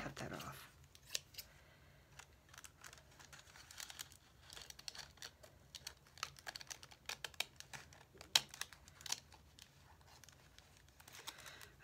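Scissors trimming excess paper during cookbook ephemera crafting, a few close, crisp snips and rustles of paper scattered through quiet handling noise, with occasional soft talk.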